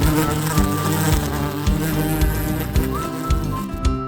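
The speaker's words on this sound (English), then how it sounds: "Bee." A bee buzzes with a continuous droning hum under a loud, rhythmic music track, the insect tone sitting close and steady throughout.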